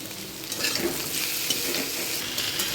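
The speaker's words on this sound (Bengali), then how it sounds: "পটলটা দিয়ে একসঙ্গে মিশিয়ে এবার ভাজবো" Pointed gourd fries in a pan with onion and green chili, a steady close sizzle with soft stirring scrapes running throughout and no voices.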